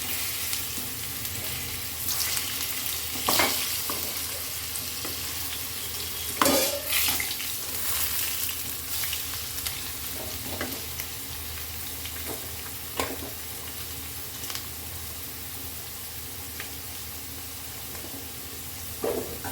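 Potato and cauliflower pieces fry in a pan with a steady, moderately loud sizzle, broken by occasional stirring scrapes and clatters.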